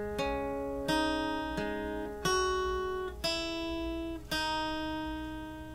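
Acoustic guitar picks the first bar of a song's intro, about six evenly spaced plucked notes that ring and fade, played alone at moderate volume.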